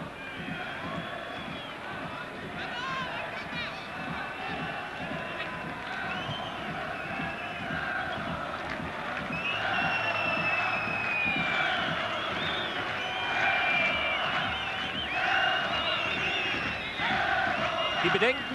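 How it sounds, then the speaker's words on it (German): Turkish supporters chanting and cheering in a stadium block at a 1990 World Cup qualifier against East Germany, a dense, sustained crowd roar with massed voices rising slightly louder in the second half. "Jubelgesänge im Block der türkischen Anhänger."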